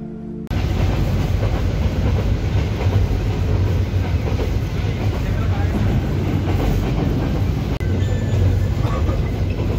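A train between Cox's Bazar and Sylhet rolls along steadily with a continuous loud rumble and rhythmic clatter of wheels on track, heard from inside, with no talking.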